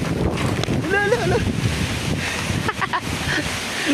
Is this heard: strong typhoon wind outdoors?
yes